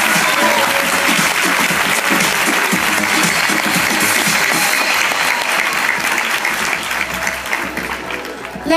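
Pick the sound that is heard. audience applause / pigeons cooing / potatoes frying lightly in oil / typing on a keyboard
audience applause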